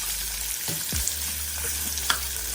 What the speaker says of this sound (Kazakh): Бірінші жуамызды енді қуырып алатын боламыз.